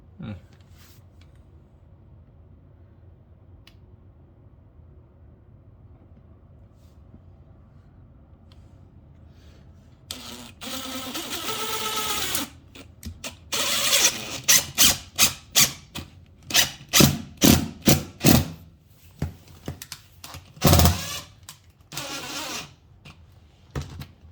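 A quiet hum gives way to a power drill whirring in short, repeated bursts as screws are driven into a hard floor for a vinyl transition strip, with some clattering between bursts.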